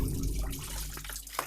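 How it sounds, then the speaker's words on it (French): A kitchen tap runs water over salad being washed, making a quiet, steady wash of water with a few faint drips toward the end. "Là la salade je vais la laver hein, avec le robinet magique."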